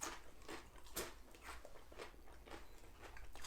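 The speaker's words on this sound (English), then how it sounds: "Oh, it's a crunchy chip." Crunchy chips from a chicken tender restaurant meal being bitten and chewed close up, a series of sharp crackling crunches repeating in an irregular rhythm with no talking.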